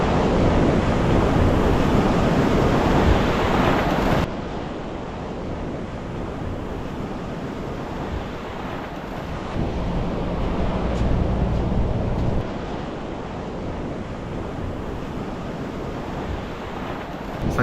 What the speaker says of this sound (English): The waves are rolling in pretty good here.